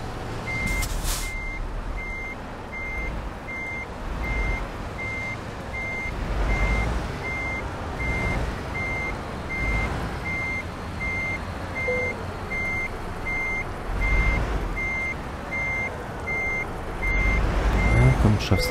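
A truck backing up in Euro Truck Simulator 2 gives off a steady, evenly spaced series of reversing beeps over a continuous engine rumble, with a brief air-brake hiss near the end.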